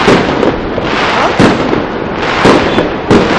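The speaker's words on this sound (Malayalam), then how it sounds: "വെടിക്കെട്ട് ശരിപ്പൊളിയാ" Fireworks burst at a Diwali fair as a series of sharp bangs spaced about a second apart over a continuous crackling rumble, loud and fairly close.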